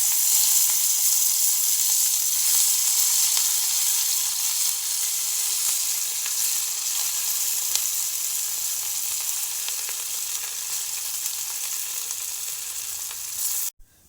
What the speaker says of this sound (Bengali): তেল গরম হয়ে গেছে এবার আমি খাবারগুলো দিয়ে দিচ্ছি